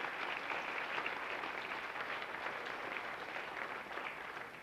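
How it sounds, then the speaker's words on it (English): Sustained applause from a crowd at a school athletics, activities and fine arts banquet, a dense even clapping at moderate distance that carries on throughout. "How about a nice round of applause for Tom and Francie and their staff?"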